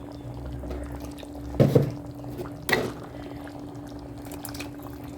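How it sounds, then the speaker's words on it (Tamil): Over a low kitchen hum, two short bursts of water pour into a pot of dried fish curry, a gurgling splash followed by a brief second pour. "இதில் கொஞ்சமாக தண்ணி ஊற்றி கலக்கி"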